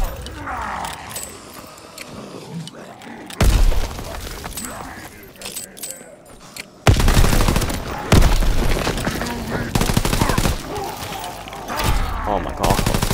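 Rapid bursts of Blyskawica gunfire in Call of Duty: WWII Zombies, loud, close and sustained in several long stretches broken by short pauses, mixed with other game effects while a player talks over it.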